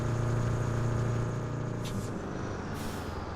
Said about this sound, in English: Alright, so let's grab our dump truck.